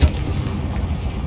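Confringo blasting spell in Hogwarts Legacy goes off as a loud, close booming blast whose rumble sustains across the whole short moment, with no talk over it.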